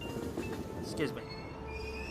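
Train in the Persona 5 Royal video game departing a station platform, a quiet rolling rumble with faint metallic wheel squeal and tonal whine, distant and continuous.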